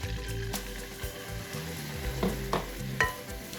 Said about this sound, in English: To this, you're adding 75 grams of flour. Yes, we're making a roux.